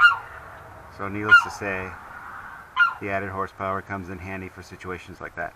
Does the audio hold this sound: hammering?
no